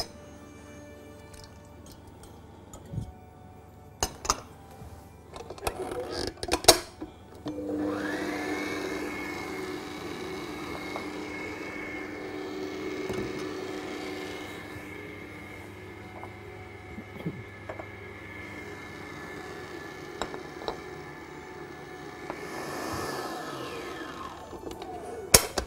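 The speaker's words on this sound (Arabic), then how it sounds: "الماسكربوني والزبدة والكريمة، هنخلطهم مع بعض الأول" An electric mixer whirs steadily through mascarpone, butter and cream, a low motor drone running for many seconds after a few clattering knocks, fairly quiet and with no talking.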